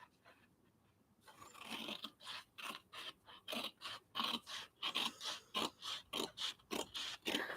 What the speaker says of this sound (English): I'm going to cut this one with some scissors.